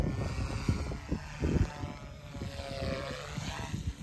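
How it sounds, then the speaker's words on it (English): A radio-controlled model helicopter, a Sky S2, flies at a radio-control club field, giving a steady whirring rotor and motor drone with small surges that stays fairly even throughout, with no talking. "So this is my next helicopter right here."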